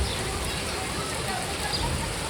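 Heavy rain pouring in Surat as floodwater rises toward a house, a dense, constant hiss of falling water with a faint low rumble, no clear pauses.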